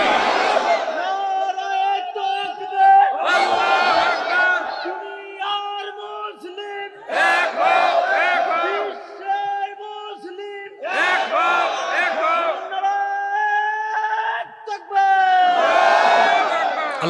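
A large crowd roars back in unison at a Bengali religious sermon gathering, answering a takbir call with several long, loud chanted shouts in repeated waves.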